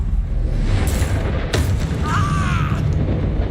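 A Bombarda spell explodes in Hogwarts Legacy combat, giving a loud booming blast over a dense, continuous rumble of game noise, with a sharp crack partway through.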